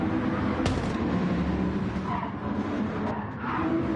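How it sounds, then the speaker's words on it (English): A GT3 race car's tyres squeal around Brands Hatch in a racing game, a sharp brief skid over a steady engine roar, loud and close, followed by further faint screeches as the engine noise carries on. "There's a squeal of tyres."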